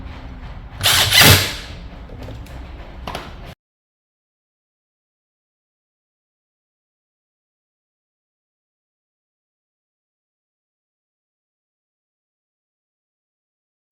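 A bolt and nut are driven tight on a plastic foosball table player with a short burst of powered ratcheting whir. The clip then cuts to silence.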